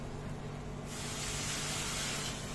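Water poured into a hot pan of fried rice and ginger, starting with a soft hiss that jumps into a loud, steady rushing sizzle and continues throughout.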